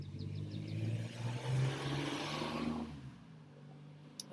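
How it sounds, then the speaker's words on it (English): Passing street traffic with a car engine revving and accelerating nearby, a steady loud rumble that fades after about three seconds, heard alone with no talk. "Hopefully you can hear me with all this traffic."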